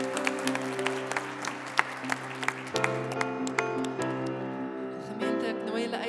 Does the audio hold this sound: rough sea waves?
no